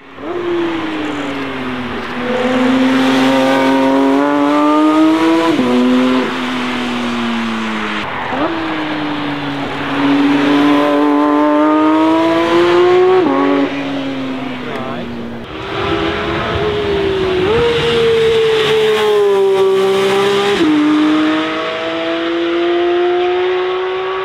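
A Porsche 911 GT3's high-revving engine screams through repeated rising gear pulls, each shift dropping the pitch briefly before it climbs again, loud and close.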